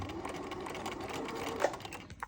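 Sewing machine stitching through fabric, a soft, steady mechanical whir with a fast, even needle rhythm, fairly quiet and close.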